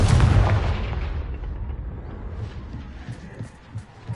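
Confringo fire spell blast in the video game Hogwarts Legacy: a loud, deep booming explosion at the start that rumbles and fades over a few seconds, with small pops near the end.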